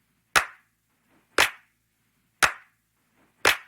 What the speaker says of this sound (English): this is a clap loop that I've had for a while.